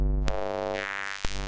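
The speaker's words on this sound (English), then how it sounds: "Some of them sound like square wave tones, while others are more like repeated blips." A Soma Laboratory Enner synthesizer hums with sustained square-wave tones. Two sharp blips punctuate the drone, one early and one near the end, all fairly quiet and close.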